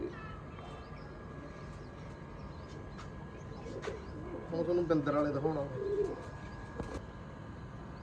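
Pigeons from a Punjabi breeder's loft give soft, low cooing calls in a quiet setting, partly under someone talking in Punjabi.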